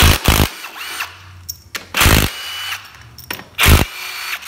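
A power tool removing 13mm pump bolts on a 4L60E transmission during a teardown, several short loud bursts of whirring with quiet gaps between them, close up and without speech.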